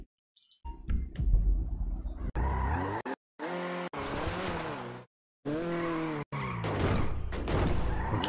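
Video game car driving with repeated loud tyre squeals and skids in bursts, engine noise between short silent gaps, several separate skidding runs near and harsh, with no talking.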